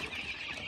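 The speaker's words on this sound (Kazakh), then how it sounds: "Сонда бұл 25 күндік балапан." A flock of 25-day-old chicks, about 180 birds raised on starter feed, gives a steady, faint, overlapping chorus of clucks and peeps with no talking.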